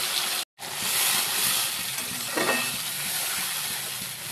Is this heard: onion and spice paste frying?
yes